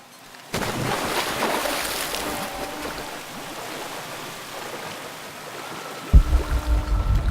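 Rushing water from a waterfall in the video game Shadow of the Tomb Raider, a steady broadband roar starting abruptly and holding at moderate loudness, joined near the end by a low rumbling tone.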